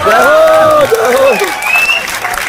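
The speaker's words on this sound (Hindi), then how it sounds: "यहां तो अपने आप तालियां बज रही हैं।" Audience applause at a youth gathering addressed by a minister, a dense wash of clapping running beneath a loud, close voice speaking over it.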